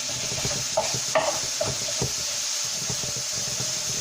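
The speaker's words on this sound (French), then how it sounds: "je rajoute mes lardons. Pour eux aussi les faire revenir au moins pendant 5 minutes" Lardons fry in a pan, sputtering steadily while a utensil scrapes and stirs them in repeated close strokes, with several louder clicks against the pan.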